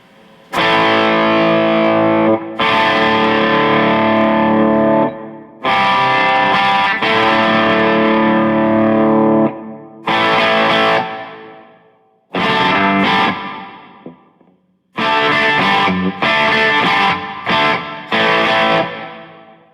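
Loud distorted electric guitar through a Marshall MG100DFX amp with no pedals, playing chords in several bursts with pauses between, each ringing out with a light reverb tail.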